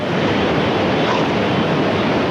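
A black tsunami wave rolls over a sea wall and across a road, a loud, continuous rushing roar of churning water that holds steady through the moment without voices.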